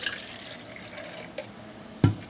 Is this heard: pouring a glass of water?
yes